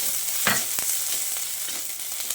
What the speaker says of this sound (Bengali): এবার ফোড়নটাকে কিছুক্ষণ ভেজে নিয়ে এর মধ্যে দিয়ে দিচ্ছি থেতো করা আদা কাঁচা লঙ্কাটা।